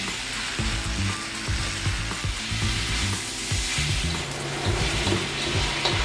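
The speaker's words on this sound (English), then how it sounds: "our onions are caramelizing very nicely" Onions caramelizing in a pan with peppers waiting to go in, a continuous close sizzle with rhythmic clicking and scraping from stirring, no voices.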